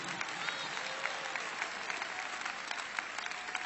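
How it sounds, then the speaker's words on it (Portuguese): A church congregation claps for Jesus in steady, dense applause that runs throughout, fairly faint and distant, with a voice faintly audible underneath. "Mais forte as palmas para Jesus,"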